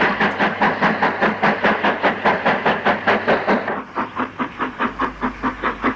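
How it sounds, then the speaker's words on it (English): An LMS Black 5 steam locomotive hauls a hopper train past at close range, its exhaust beating in a fast, regular chuff that steadies and softens slightly partway through, with hissing steam and rolling wheels beneath. "A Black 5, 45493, pulls through towards Snow Hill on a hopper train."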